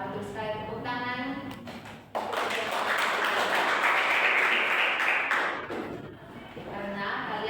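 Students in a classroom break into applause, a burst of mixed clapping lasting a few seconds that builds quickly and fades, with a teacher's voice before and after.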